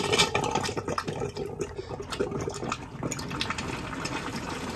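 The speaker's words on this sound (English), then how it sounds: "Which is going to give you some fresh water flush." Fresh water rushes and gurgles into the bowl of an Auto-Trail Scout motorhome toilet during a close, continuous flush that keeps an even splashing flow for several seconds.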